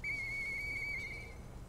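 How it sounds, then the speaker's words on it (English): A single sustained, clear whistle held at a steady pitch for over a second in the video game Lies of P, sounding close and loud over a low background rumble. "I know that whistle."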